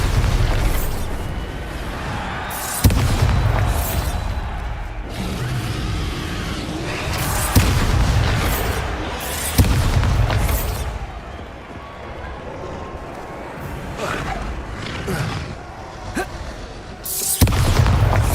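Bombarda spell explosions in the Hogwarts Legacy video game: a series of loud, deep booms at irregular intervals, each followed by rumbling debris and crackle.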